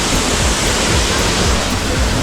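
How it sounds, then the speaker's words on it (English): Waterfall in Bali roars close and loud as a dense, continuous rush of falling water, steady across the whole short stretch. "Going down the waterfall."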